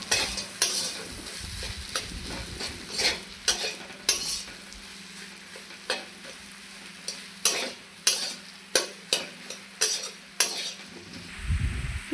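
Onion fritter batter with salt and chili powder is stirred in a bowl with a utensil, giving wet squelching turns and sharp clinks against the bowl, repeated irregularly and heard close.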